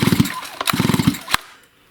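A STIHL MS271 chainsaw with a faulty ignition module is pulled over by its starter cord twice, each pull a rapid ratcheting burst of clattering compression strokes, close and loud, ending in a sharp click and quiet.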